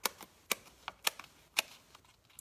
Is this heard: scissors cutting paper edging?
yes